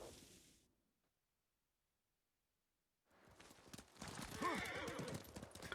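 A horse in Ghost of Tsushima whinnies loudly after a quiet gap, with clip-clop hoofbeats underneath, all close and clear.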